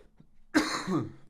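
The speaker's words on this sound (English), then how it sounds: "Terribly sorry about this cough." A single harsh cough, close and fairly loud, preceded by a faint throat noise and otherwise quiet surroundings.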